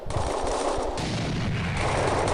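Continuous rapid gunfire in a Minecraft Transformers mod game, dense and loud like automatic weapons, crackles without pause for a couple of seconds with a harsh, processed game-like quality.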